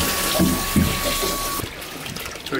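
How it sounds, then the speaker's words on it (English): Water rushes steadily into a new sailboat's bilge during commissioning to test the bilge pumps, a continuous splashing flow under brief voices, with a thin whine dropping away partway through. "we're gonna put water in and see how much water is leaking and see also that the bilge systems are working"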